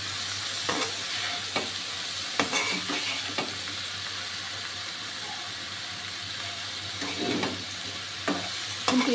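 Water lily stems (shapla) fry in a pan with a steady close sizzle, broken by a few soft clacks and scrapes as they are stirred and flipped, with no talk over it.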